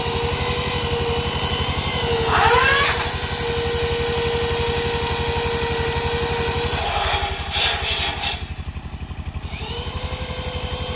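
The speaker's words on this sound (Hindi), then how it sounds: "छेद किए जा रहे हैं।" Drilling and cutting during a 20 kW Loom Solar panel installation for a flour-mill power plant: a steady, droning motor hum runs for the whole stretch, with brief higher whines and bursts where the tool bites.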